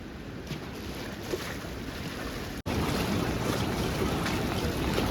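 The flooded Ganges at Haridwar rushes past in a steady, broadband roar of churning water and waves, with wind buffeting the microphone throughout and a brief dropout midway.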